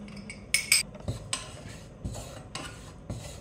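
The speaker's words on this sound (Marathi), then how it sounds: "2 चमचे ओट्सची पावडर आपण त्याच्यावरती परतून घेणार आहोत" Oat powder sautéed in oil in a saucepan gives faint, soft sizzling under a series of sharp metallic clinks and scrapes as a spoon stirs against the pan.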